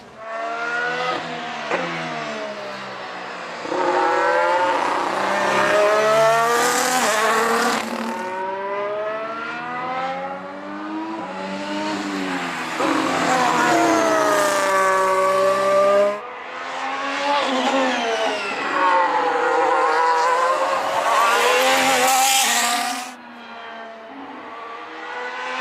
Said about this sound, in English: before they apply the brakes into that first chicane, Lewis Hamilton is ahead